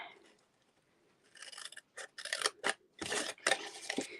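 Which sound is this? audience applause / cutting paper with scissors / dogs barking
cutting paper with scissors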